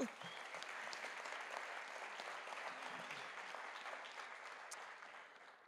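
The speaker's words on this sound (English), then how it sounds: "Let's give them another round of applause." Audience applause at a nursing pinning ceremony, steady dense clapping from a large crowd that fills the hall, holding at an even level throughout before easing slightly at the end.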